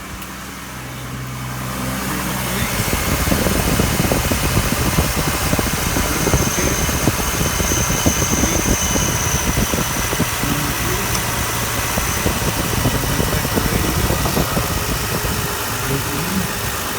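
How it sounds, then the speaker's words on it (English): A Chevrolet Trailblazer 4.2L engine cranks and catches, then runs at a steady idle with a dense vibrating rumble, loud and close, continuing evenly after the first couple of seconds of quiet. "put the key back in, prime it, and then turn it over"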